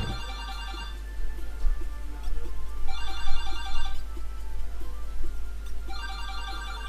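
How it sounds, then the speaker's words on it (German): Phone ringtone ringing loudly in repeated bursts, roughly three rings with short gaps between them, over a steady low hum and no talk. "Das ist auf einmal das Handy losgegangen"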